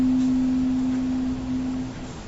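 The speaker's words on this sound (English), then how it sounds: "I have two tuning forks up here." A single tuning fork hums a steady pure tone that fades slightly over about two seconds, over a faint background hiss.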